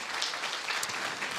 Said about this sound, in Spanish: ¿Le puedes dar un aplauso por eso a Él?